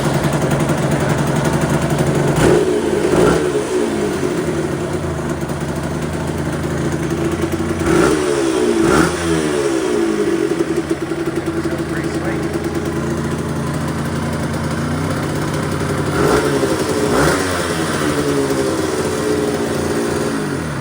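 Suzuki RG F 125 motorcycle engine running loud and close, idling with several sharp revs that rise and fall in pitch at intervals, its note uneven as if sputtering while low on fuel.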